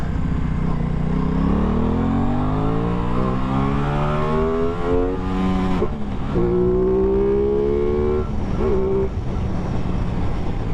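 Aprilia Tuono 660 motorcycle in its 70 kW version, engine loud and close, revving and pulling through rising gear-by-gear sweeps with brief dips at the shifts.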